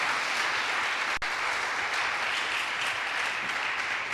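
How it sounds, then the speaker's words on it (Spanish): A church congregation applauds in a continuous, even wash of clapping, loud and unbroken for the full stretch, with one brief dip partway through. "dele fuerte el aplauso al Rey"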